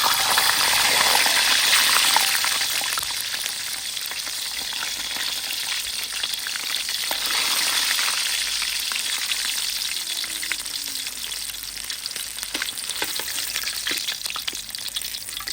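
Pork belly deep-frying for a second round in hot oil over high heat gives a steady, dense sizzle and crackle that swells and eases slightly, close and continuous with no talking.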